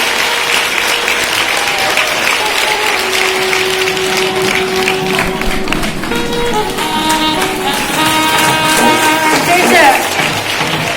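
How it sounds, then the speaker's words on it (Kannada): Loud, continuous audience applause welcoming an honored student at a school achievement ceremony, dense clapping throughout with music and a voice faintly underneath. "ಅವರಿಗೆ ಜೋರಾಗಿ ಚಪ್ಪಾಳೆಯೊಂದಿಗೆ ಸ್ವಾಗತವನ್ನು ಕೊಡೋಣ"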